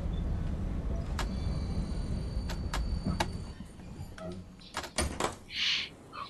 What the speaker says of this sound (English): Okay, doors are open.